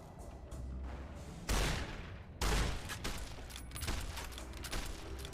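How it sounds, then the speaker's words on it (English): Enemy gunfire in the video game Fallout: New Vegas, a dense stretch of shots with two loud booming bursts near the start and steady crackling fire continuing throughout, no talking over it. "Who's shooting me?"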